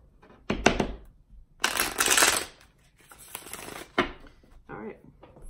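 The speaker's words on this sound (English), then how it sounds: "One more shuffle and we're good." Tarot cards are shuffled in several quick riffling bursts, crisp and close, separated by short pauses and light handling taps.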